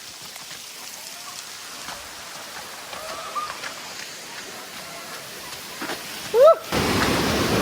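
Spray from the Lakhenchuli waterfall rushes as a steady broadband hiss like heavy rain, with faint voices and a brief loud clatter near the end.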